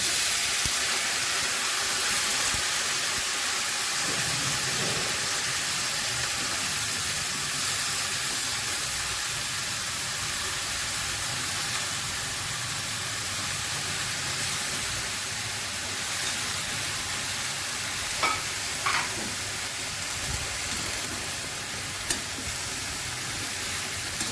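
Water lily stems tipped into a hot pan with shrimp for a shaplа-chingri dish, a steady low hiss and sizzle of frying running throughout with a few faint clinks, no talking.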